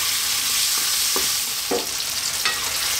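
Thin-cut chicken frying in plenty of oil for garlic chicken tomato spaghetti, a bright steady hiss with a few brief scraping strokes as it is stirred, no talk.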